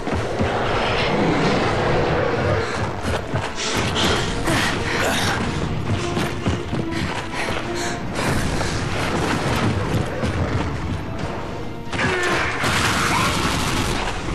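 Gunfire and mechanical clatter from the video game Bulletstorm fill a dense, loud stretch of action with repeated bursts and booms, and someone talks briefly over the din.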